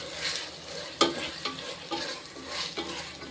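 Green peas pulao cooking in a pan, a soft steady sizzle and bubbling with a few sharp clinks of a spoon against the pan, close and moderately quiet, no talking.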